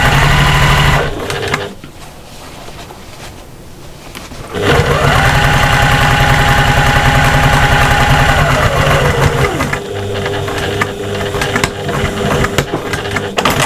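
Sewing machine stitching the back panel onto a cross body bag, running steadily for several seconds with a whirring motor hum that starts, holds and then slows to a stop, followed by quieter handling noise.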